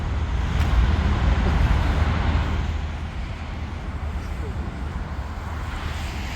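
Steady roar of German autobahn traffic heard from nearby, a continuous broadband rumble strongest in the lows that swells briefly early on and then settles to a constant drone.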